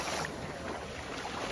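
Longtail boats pass over the water at Railay Beach in Thailand, a continuous broad engine and water rush mixed with wind noise buffeting the microphone, steady and fairly loud throughout.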